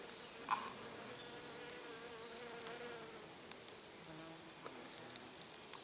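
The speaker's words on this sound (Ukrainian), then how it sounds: "Тут працюють джмелі." Quiet outdoor scene with bumblebees buzzing faintly on meadow knapweed flowers, low droning hums drifting in and out, plus a soft tap near the start.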